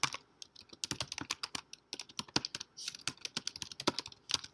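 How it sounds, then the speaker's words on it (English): Fingers type on a computer keyboard in a quiet room, a close, quick, irregular patter of key clicks with brief pauses between runs. "So we're just going to type."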